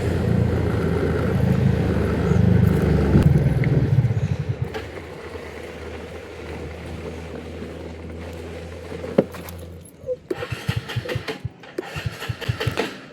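A TVS Ntorq 125 scooter, four years old, is held at full throttle with a steady loud drone that drops off and then sputters in uneven bursts as the petrol runs out.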